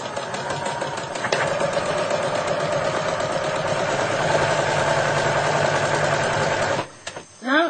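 A sewing machine runs steadily, stitching the fabric edge of an elephant table runner, its close mechanical whir continuing for several seconds before stopping abruptly near the end.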